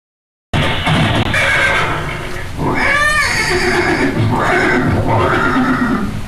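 A horse neighs loudly and close in a dramatic historical scene: a long, shaking whinny peaks in the middle, with shorter calls around it over a busy background.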